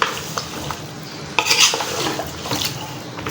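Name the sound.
stirring spicy masala beef in a pot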